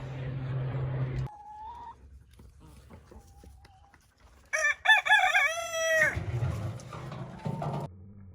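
Roosters fighting: one lets out a loud, close crow amid clucking, squawks and scuffling, with a few sharp bird calls before and after.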